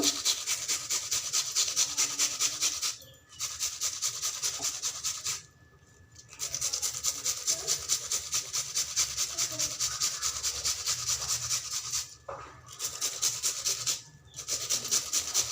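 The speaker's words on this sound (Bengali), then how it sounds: "দুটো পেঁয়াজ আমি এভাবে করে গ্রেটারের সাহায্যে ঘষে দিয়ে দিব" Two onions are rubbed across a grater for a Bengali small-fish curry, making a steady repeated rasping scrape in quick strokes, with a few short pauses between bursts.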